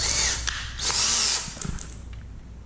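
A power drill reverses a screw out of a two-stroke powered bicycle frame, with two loud whirring bursts separated by a pause, followed by short clicks and clatter of parts.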